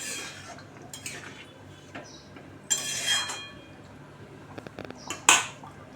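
A lid is set on a cooking pan while a posto bata fish dish is being made, producing a few bright metallic clinks and clatters between quieter pauses, close and fairly loud.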